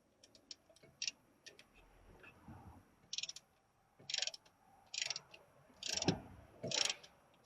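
A ratchet on a brake caliper piston rewind tool clicks in short bursts of sharp ticks, quiet and close, with irregular pauses between groups of clicks.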